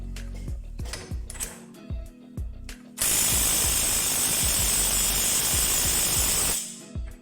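A DeWalt DCF894 impact wrench loosening a bolt: an opening stretch of scattered clicks and knocks, then a loud, continuous hammering rattle for about four seconds that stops abruptly, close to the listener.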